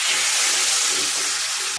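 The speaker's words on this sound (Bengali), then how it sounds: "এবার সামান্য একটু জল দিয়ে মশলাটা কষিয়ে নেব।" Water is poured onto spice paste frying in a pan for a curry, setting off a loud, steady burst of steamy hissing sizzle that cuts off abruptly after under two seconds.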